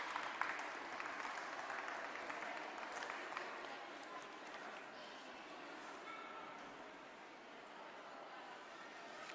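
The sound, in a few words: audience applause for Jerry Nash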